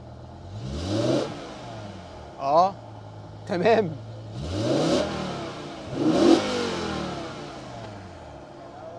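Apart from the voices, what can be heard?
BMW V10 engine exhaust revving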